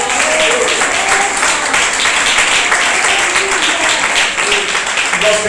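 Church congregation clapping loudly and continuously, a steady rhythmic wash of palms with voices and background sound mixed underneath.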